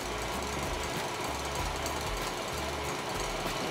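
An electric mixer whips coconut pajeon batter in a bowl, giving a quiet, pulsing whir that comes in short, rhythmic bursts.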